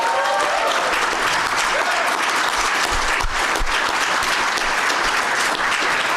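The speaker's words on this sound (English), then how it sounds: "Now let's clap on that." An audience applauds steadily in a hall after a housing levy announcement at a mayor's bill signing, a dense, loud clapping that fills the whole stretch without pause.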